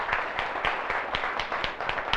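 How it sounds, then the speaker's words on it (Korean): An audience claps together at a business presentation, a steady, moderately loud run of overlapping claps with regular rhythmic accents throughout. "박수 한번 보내주세요"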